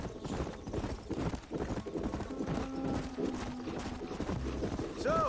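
Hooves clip-clop steadily as a horse is ridden in Red Dead Redemption, a rhythmic trot up close with a brief snort, while characters talk quietly.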